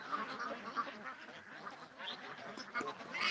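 A group of farm ducks quacking nearby, a busy overlapping chorus of repeated calls with no talk over it.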